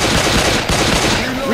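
Rapid shotgun blasts fire in the zombie video game Left 4 Dead 2, a dense string of loud, close bangs fired almost back to back, with gameplay noise mixed in.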